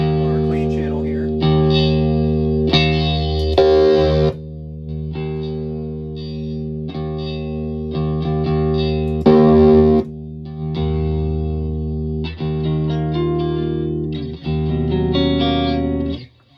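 Electric guitar played through the clean channel of a Mesa Badlander tube amp, 25 or 100 watt with 6L6 or EL34 tubes, sustained chords ringing in phrases with brief gaps, loud and close with a touch of chorus-like shimmer.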